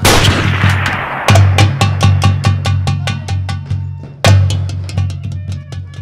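Sharp gunshot bursts ring out on a Hindi nautanki stage play, two loud cracks about three seconds apart, each followed by rapid decaying echoes, with a low steady hum of stage sound beneath.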